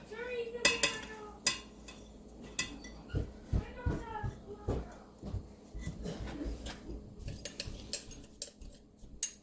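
Spoon clinks and scrapes as minced garlic and fresh parsley are stirred together for topping herb-roasted sweet potatoes, a series of light, close utensil taps and knocks in an irregular rhythm with faint kitchen background.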